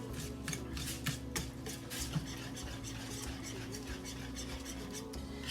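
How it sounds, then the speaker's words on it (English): Ingredients for a slow-cooker turkey breast dinner being stirred together in a small bowl, a soft continuous scraping and rubbing with light clinks of utensil against the bowl, close but quiet over a low hum. "you're going to just put all this in a small bowl and kind of just mix it together"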